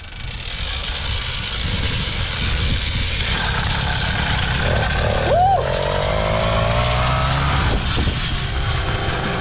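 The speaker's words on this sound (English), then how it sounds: "the engine has hella torque" The engine of a custom-built motorcycle runs steadily nearby, a constant mechanical rumble and rattle with a brief rising whine partway through, and voices talk over it.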